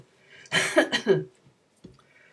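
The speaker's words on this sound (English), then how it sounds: "it's not a dry cough" A single wet, phlegmy cough bursts out in a couple of quick heaves, followed by a brief throat sound, near and fairly loud in a quiet room.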